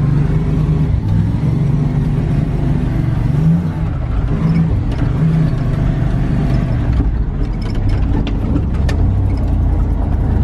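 A Ram four-wheel-drive pickup truck's engine drones steadily and close while driving through snow and ice in a blizzard, with a continuous low rumble and faint mechanical rattles throughout.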